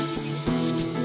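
Air sprays out of a car tyre valve in a loud, steady hiss with a brief catch or two as it flows.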